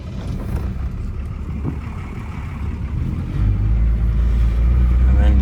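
A 1981 Datsun MQ Patrol with an SD33 diesel and four-speed gearbox pulls away in first gear, its low, steady engine drone rising in level partway through, with a voice heard over the engine.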